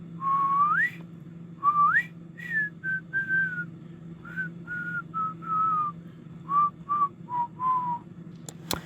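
Someone whistles a tune alone, a sequence of clear short notes and rising slides with brief gaps between phrases, fairly close, over a low steady background hum.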